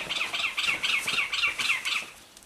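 A bird calls close by near a house on the Lleida plain, a rhythmic series of about eight bright, repeated two-part notes at a steady pace, clear against a quiet background.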